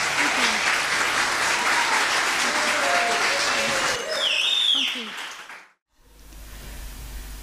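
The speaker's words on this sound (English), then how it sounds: "Give them all a big round of applause one more time, everybody." A concert audience applauds and cheers loudly for several seconds in a full, dense wash of clapping, which swells near the end before cutting off abruptly into a low, quiet hum.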